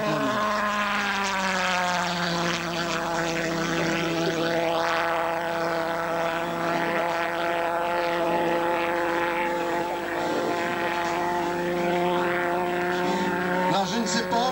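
A pulsejet-powered model airplane doing touch-and-go passes at the 2002 Til-Châtel flying meeting produces a loud, continuous, harsh buzzing drone with a steady pulsing tone that slowly shifts in pitch throughout.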